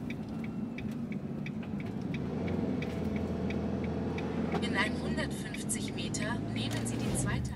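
A camper van drives along a road with a continuous low engine and tire rumble, steady and close from inside the cab, with faint higher rattles and whooshes toward the end.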